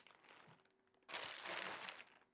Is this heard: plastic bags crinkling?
yes